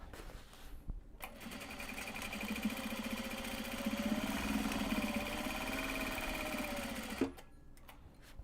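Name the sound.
sewing machine stitching Japanese fabric drawstring bag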